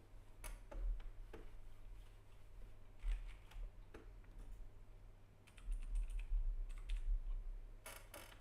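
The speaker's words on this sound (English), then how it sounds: "I think I've cleaned out the keyboard." Cleaning a cluttered desk and computer keyboard: scattered clicks, taps and brief rattles come in irregular clusters over a low steady hum, fairly faint and close, with no talking.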